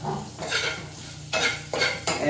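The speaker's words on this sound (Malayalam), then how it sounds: "ഈ ചതച്ച് വെച്ച കുരുമുളകും വെളുത്തുള്ളിയും പിന്നെ അതുപോലെ പച്ചമുളക് കറിവേപ്പില ഇതെല്ലാം ഇട്ട് മോപ്പിച്ച്" Crushed black pepper, garlic, green chilli and curry leaves sizzle in hot coconut oil, with steady frying crackle broken by several louder bursts as the pan is stirred, close and alone.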